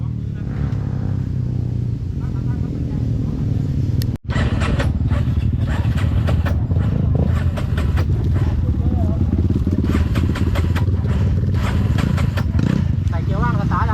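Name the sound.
motorcycle engine idling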